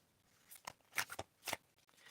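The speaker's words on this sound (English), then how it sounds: "I'm going to start shuffling, fade out, and you're going to tell me when to stop shuffling." A deck of oracle cards is shuffled quietly, giving several quick riffling bursts of papery flutter with short gaps between them, close and soft.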